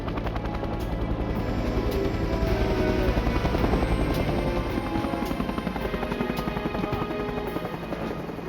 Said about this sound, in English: wait till the helicopter takes off, wait till the noise dies down